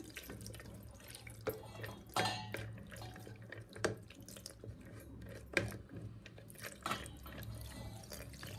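Water is poured over citron seeds sitting in a strainer, giving irregular splashes, drips and trickles close by, with occasional light clinks from a kitchen vessel and no talking.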